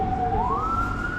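An ambulance siren sounds in a city street in Bogota, a single steady wail that rises in pitch partway through and stays loud and clear over low traffic rumble.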